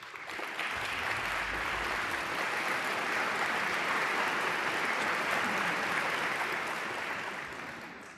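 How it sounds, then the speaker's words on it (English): Applause rolls steadily from a snooker crowd in a neighbouring arena, a broad, continuous clatter of clapping that holds at an even level for several seconds before easing slightly at the end. "You could hear the applause next door there"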